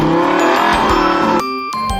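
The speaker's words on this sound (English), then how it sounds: "I am driving a car." A car driving sound effect, a loud close engine revving with whooshes and quick pitch sweeps, ending in a brief ding-like tone and a cut to quieter engine noise.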